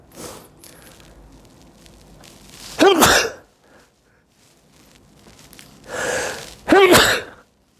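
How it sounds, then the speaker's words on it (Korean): Two sharp, loud coughs or sneeze-like bursts several seconds apart, each preceded by a breathy intake, in an otherwise quiet room. "기침을 하면 꼭 3번인데 신기하게 2번 했네"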